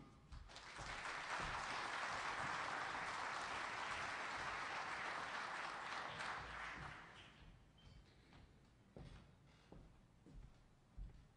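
Loud applause from a large audience welcoming a speaker fills the room for several seconds, then thins into scattered claps and fades out.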